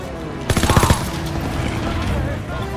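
A half-track mounted machine gun in the Call of Duty: WWII game fires a quick burst of about eight rapid shots amid loud battle noise, with shouting voices around it.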